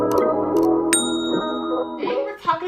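A notification-bell ding rings out as a bright, sustained chime near the one-second mark, layered over steady background music that carries on throughout.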